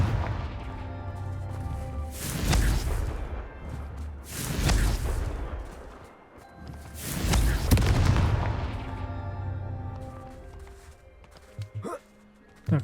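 Confringo fire spell blasts in Hogwarts Legacy come as several loud booming bursts spaced a couple of seconds apart. Each swells and fades, with quieter stretches between them and a few faint clicks near the end.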